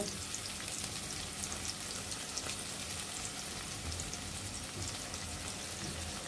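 Ginger garlic paste frying in hot oil with cardamom and cinnamon while cooking crab, a steady, dense sizzle that holds evenly close-up throughout with no talking.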